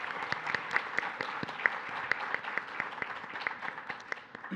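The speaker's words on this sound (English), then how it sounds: "so let's give them a round of applause." A modest audience gives a round of applause at a cybersecurity clinics event, with crisp, distinct hand claps in a quick irregular patter, fairly near and moderately quiet, lasting several seconds.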